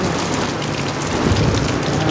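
Steady, loud rain pours down with a dense hiss of water, rushing continuously without pause, with gushing floodwater.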